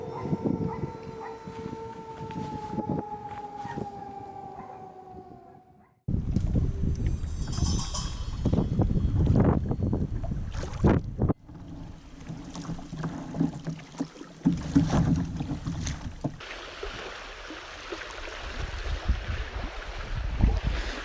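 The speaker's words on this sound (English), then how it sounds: "it's a little windy today" Wind gusting outdoors on open water during a kayak fishing trip, a steady broadband rush and buffeting that rises and falls over about twenty seconds, with wind noise on the microphone and no talk.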